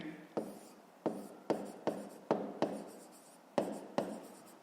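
Pen or pencil strokes on paper in a quiet room, about ten crisp, evenly spaced taps and scratches of handwriting, close and soft.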